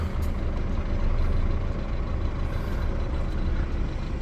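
A truck pulling out over rough ground, its engine a loud, steady, close rumble filling the whole stretch, with faint higher hisses on top and no speech.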